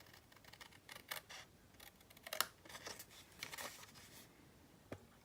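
Scissors snipping around paper for a vintage traveler boxed set craft, a series of faint, irregular crisp snips and rustles close by, ending with one sharper click.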